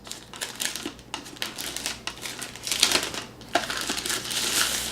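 Packaging of a mesh Wi-Fi unit being opened up close, with continuous crinkling, rustling and crunching of cardboard and plastic, growing busier toward the end.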